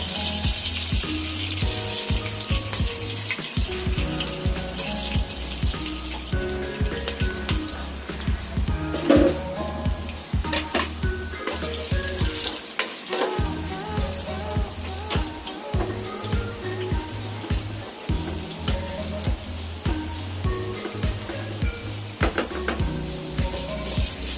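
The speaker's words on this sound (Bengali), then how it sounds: "লং, এলাচ, দারচিনি আর তেজপাতা দিয়ে দিলাম।" Cloves, cardamom, cinnamon and bay leaves fry in hot oil with a steady, close sizzle that crackles throughout, while music plays in the background.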